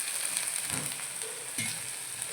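Steady hiss and sizzle of brinjal frying in oil in a pan, with a couple of soft stirring scrapes, continuous and close.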